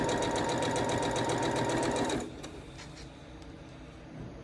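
A sewing machine stitches a quilt block with a fast, steady whir for about two seconds, then stops, leaving only faint handling noise.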